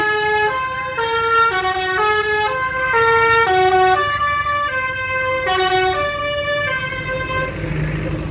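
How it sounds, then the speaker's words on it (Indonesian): An Asyrof bus plays a basuri musical horn on a busy road, a loud, clear melody of stepped tones repeated in short phrases with traffic noise underneath. "Mereka sangat senang mendengar suara basuri ini"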